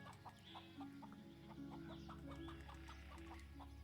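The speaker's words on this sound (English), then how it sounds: "A little bit of chicken there." Chickens cluck steadily in the background of a fantasy role-playing game scene, short repeated calls layered over a continuous low ambient hum.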